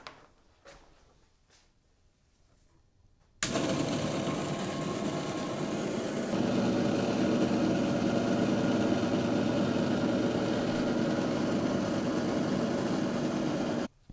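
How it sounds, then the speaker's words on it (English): A bandsaw, set up for cutting rocks, switches on after a quiet pause and runs with a steady, loud, even whirring drone for about ten seconds before shutting off abruptly. "And we have our bandsaw. I guess we could plug it in and make sure our blade is tracking properly."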